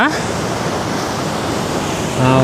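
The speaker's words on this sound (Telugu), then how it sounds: "సౌండ్ వినపడుతుందో లేదు, అలల ఘోష." Ocean surf roars steadily at a beach near Kumta, a dense wash of breaking waves close by that swells slightly louder at the end.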